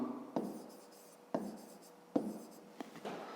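Pen writing on paper during a fifth-grade maths lesson, with soft close scratching strokes punctuated by several sharp taps as the pen lands on the page.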